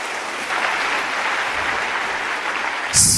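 Church congregation applauding and cheering, a dense continuous wash of clapping and voices at steady volume, with a sharp hiss-like burst near the end.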